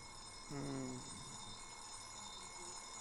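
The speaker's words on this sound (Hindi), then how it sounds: "ये अलार्म इस टाइम चल पड़ा।" An alarm goes off with a short burst of rising, stepped electronic tones lasting about half a second, over a steady background hum, with nothing else prominent afterward.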